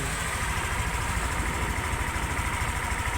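A Yamaha NMAX V3 scooter engine idles at its first start after a top overhaul, a steady, close, even mechanical chug with a constant low rumble throughout and no voices.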